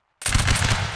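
Musket volley fired on command in a Napoleonic Wars line battle video game, one sudden loud blast of many shots merging into a single crackling roar after a brief silence.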